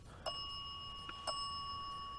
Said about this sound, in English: Can you back up from the bell, please?